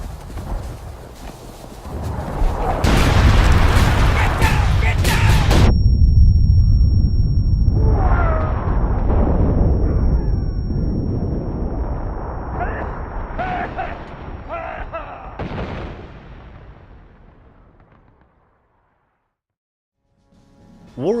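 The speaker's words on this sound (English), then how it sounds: "Incoming artillery!" Incoming artillery fire in War of Rights, a Civil War first-person shooter: a long, loud roaring rumble of shelling and explosions that swells, holds for several seconds, then fades to silence.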